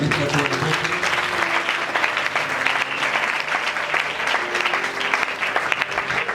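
A church congregation at a worship gathering claps steadily and continuously, with a dense wash of hand claps and faint cheering that holds at an even, loud level throughout.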